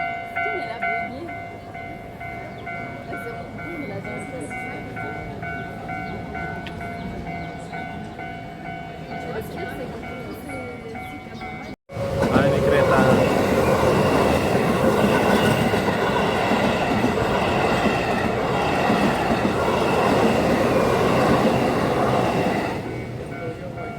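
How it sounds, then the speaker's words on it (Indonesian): A train near Fushimi Inari rumbles by at close range with a continuous clatter of wheels on rails, growing louder after a brief cut, with faint talk underneath. "Kereta."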